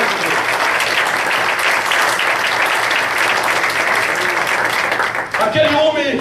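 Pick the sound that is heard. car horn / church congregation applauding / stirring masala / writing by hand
church congregation applauding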